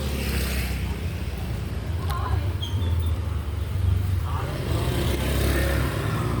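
A motorcycle engine hums and drones nearby on a road in the Philippines, a steady low rumble that swells and fades slightly, with people talking over it.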